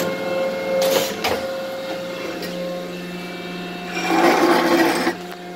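Machine shop planing machine rough planing a metal straight edge, a steady mechanical drone and hum with clunks around one second and a louder scraping cut surging near the end.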